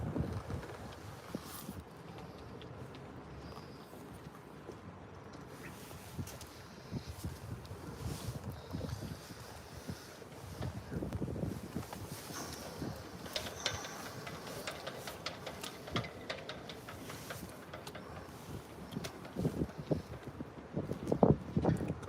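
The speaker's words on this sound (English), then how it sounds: "Oh, this wind's crazy." Strong gusty wind blows by the water at a boat yard on the river, a low rumbling buffet across the microphone that rises and falls in irregular surges, loud and close, with no talk over it.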